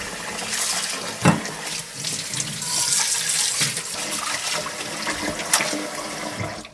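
An octopus being washed under running tap water in a kitchen sink for spicy stir-fried octopus, a steady splashing stream with a couple of sharper knocks, close and fairly loud with no talk.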